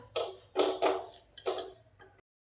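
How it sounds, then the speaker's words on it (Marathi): Moong dal halwa stirred in a pan just after milk is poured in, heard as a few close, wet scraping strokes of a spoon against the metal in uneven bursts, ending in silence. "दूध टाकल्याबरोबर याला हलवाय हलवायचं आहे"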